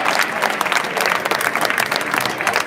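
Stadium crowd at a West Brom versus Millwall football match applauding steadily as a substituted player leaves the pitch, a dense, continuous clatter of claps filling the whole stretch.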